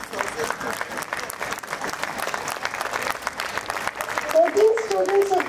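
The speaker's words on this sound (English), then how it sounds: "Ladies and gentlemen, I think this deserves a tremendous applause." An audience at a school prize distribution ceremony applauds a student's top accountancy score, the clapping steady and moderately loud, with a voice briefly audible over it near the end.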